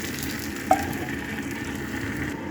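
Steady, soft sizzling of okra cooking in a pan, with one small clink partway through.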